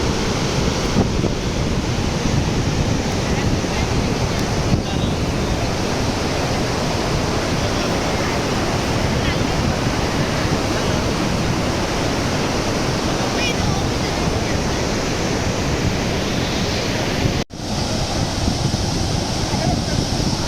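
The Kaveri river pours over Gaganachukki waterfall in Karnataka, making a loud, unbroken roar of rushing water that fills the whole stretch, buffeted by wind, with one brief dropout near the end.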